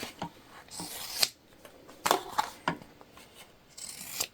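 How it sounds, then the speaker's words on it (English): Scissors trim excess fabric from a raw-edge ghost sewing project, making quiet crisp snips in short bursts with pauses between cuts. "we're just going to quickly trim off the extra"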